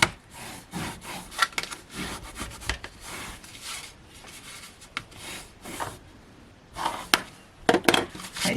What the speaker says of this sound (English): let's burnish those down